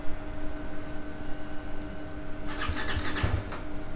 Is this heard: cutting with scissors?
no